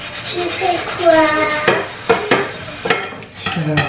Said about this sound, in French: Je fais la vaisselle.